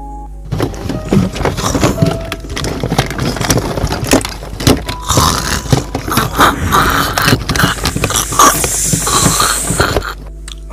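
A horror sound effect of a throat being slashed: a continuous, loud, wet scraping and crunching texture with splintering, tearing bursts, lasting about ten seconds and then cutting off abruptly.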